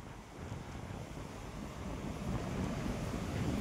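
Water from a lake pours down Siddhewadi waterfall in a constant broad rushing roar that swells slightly, heard fairly close and without talking.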